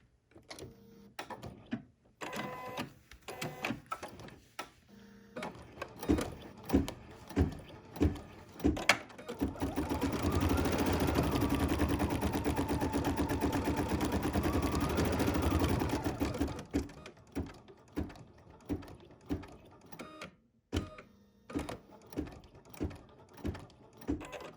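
Embroidery machine stitching out a quilt block, with close, steady rapid needle clatter in repeated bursts and a sustained whirring run in the middle.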